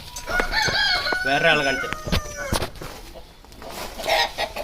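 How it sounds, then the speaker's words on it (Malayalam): Chickens at a goat farm in Ernakulam cluck and a rooster crows loudly nearby, with more scattered clucks following while a person talks. "അതിനെ കുറച്ച് കോഴികളൊക്കെ ഉണ്ട്"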